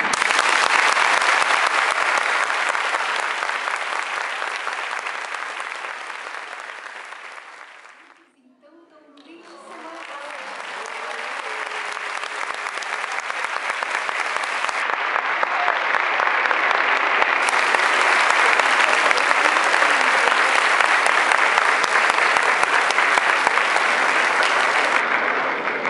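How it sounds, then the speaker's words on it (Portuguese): Sustained applause from a school graduation ceremony audience honoring the graduating class, loud and steady, briefly dipping to near silence midway before swelling back up and continuing to the end. "Peço a todos então uma salva de palmas para os alunos formandos"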